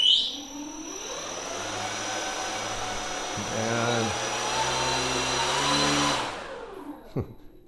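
A scratch-built electric RC airplane motor with thrust reversers spins up as the throttle is advanced, a loud whining hum rising in pitch, holding a steady drone and then winding down near the end.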